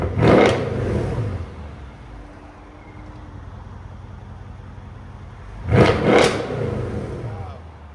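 A Mercedes CLS 63 AMG engine revving hard through an aftermarket exhaust, two loud rising blips several seconds apart with a low idle rumble between, close by.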